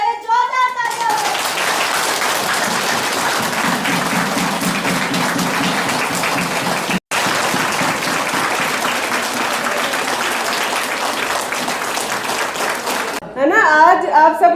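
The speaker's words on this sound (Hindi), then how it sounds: "तो एक बार उन सर के लिए पहले जोरदार तालियां हो।" Sustained audience applause for arriving guests at a free health camp, dense clapping filling the room for about twelve seconds with a brief gap midway; children's voices and talk are heard before and after.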